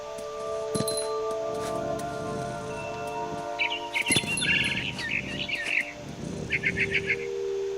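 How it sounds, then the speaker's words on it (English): A barn swallow chirps in the What Remains of Edith Finch video game, a quick run of bright, close chirps over steady low game ambience and a soft musical background. "Then I heard chirping outside my window. It was a barn swallow going back to her nest."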